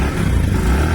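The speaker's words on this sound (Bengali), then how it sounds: "আমরা বাইকটার সাউন্ড দেখলাম" A Bajaj Platina 102cc motorcycle in clean, like-new condition idles steadily at close range, a continuous low engine hum with no voices over it.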